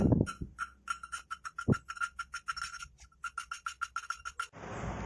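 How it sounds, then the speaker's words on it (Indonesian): A Honda Scoopy engine valve is lapped against its seat, a close, rapid train of short rasping strokes in a quick steady rhythm, with a brief hiss at the end. "Oke, kita skor ya sekarang. Sampai halus ya."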